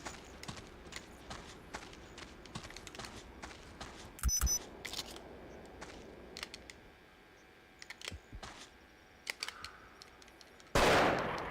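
Gunshots in the Cabela's Outdoor Adventure hunting game, sparse sharp cracks and clicks against quiet ambience, with one louder shot near the middle and another burst at the end.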